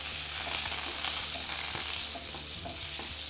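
Six tablespoons of butter melt in a frying pan for Wiener Schnitzel, giving a steady, even sizzle at moderate volume with faint stirring ticks and no talk.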